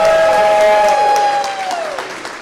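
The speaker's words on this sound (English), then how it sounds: "We're going to stand up and cheer." Conference audience at Startup Grind San Francisco rises to cheer: loud sustained whoops, applause and shouts filling the room, fading gradually toward the end.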